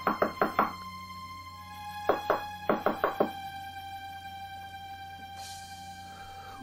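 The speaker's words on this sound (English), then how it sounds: "she gets a knock on her door" Knocking on a door as an audio drama sound effect: three quick groups of sharp raps, each group holding three or four knocks, crisp and close over a faint background hum.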